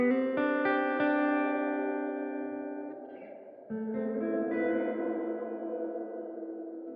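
An instrument runs through a Meris Mercury 7 reverb pedal with its modulation turned up, sustained chords swelling into a wide, wavering wash of reverb, close and fairly loud, with a fresh chord struck midway that blooms and slowly fades.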